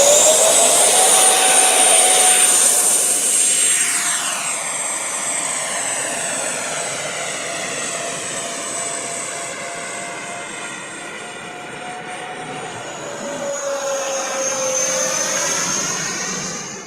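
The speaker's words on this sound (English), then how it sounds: "That looks like a nice flying jet." An RC model jet aircraft flying past at a fly-in event, its loud turbine whine sweeping up and down in pitch as it passes near, fades, then swells again, heard alone without talk.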